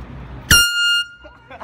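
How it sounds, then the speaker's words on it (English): A handheld air horn gives one short, loud, piercing blast of about half a second, heard close up, with brief background voices around it. "You wanna blow the air horn?"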